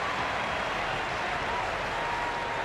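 Crowd at the 2019 CrossFit Games roaring and applauding during a women's clean lift, a dense continuous wash of cheering at steady loudness with no pauses.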